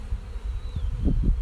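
Honeybees buzz around a backyard hive six days after installation, a steady close hum with a few louder passes of individual bees near the end.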